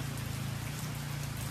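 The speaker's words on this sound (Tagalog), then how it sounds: "Ulan." Steady rain falling during a motorbike trip in Infanta, Quezon, a continuous dense patter of drops with a low rumbling undertone, close and unbroken, with no voices.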